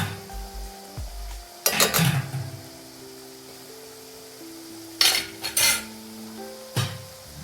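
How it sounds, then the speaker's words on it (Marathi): Onion pakoras deep-frying in oil over a low flame give off a soft, low bubbling hiss, broken by a few loud metallic scrapes and clinks of a utensil against the pan. "खरपूस छान तळून घेते"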